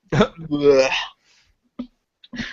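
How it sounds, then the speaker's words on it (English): A man lets out a drawn-out, voiced burp after drinking a lot of beer, close to the microphone, followed by a few small throat clicks and short bursts of sound. "I've been drinking a lot of beer. Now I'm burping a lot."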